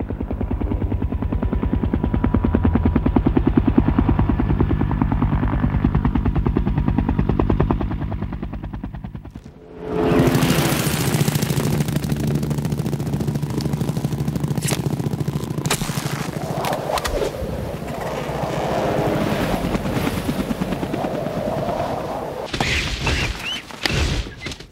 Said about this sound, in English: we had to add the real sound of a Huey helicopter